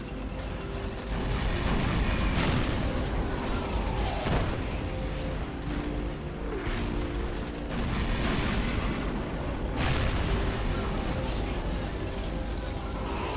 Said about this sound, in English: And the explosion